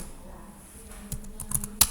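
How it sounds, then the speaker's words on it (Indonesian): Sparse keystrokes on a computer keyboard while RIP routing commands are entered into a Cisco router configuration, a few soft clicks after a quiet start, ending in a sharper tap. "kita tinggal ketikkan saja rumus routingnya"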